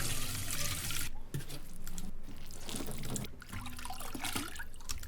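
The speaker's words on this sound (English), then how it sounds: "water sounds could be cool" Water recorded on a phone for use as a foley sample, a steady broadband wash of running, trickling water with a few brief dips, fairly close and continuous with no voices.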